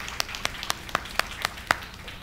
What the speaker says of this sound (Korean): 서로 너무 수고했다고 서로 한번 박수 한번 쳐줍시다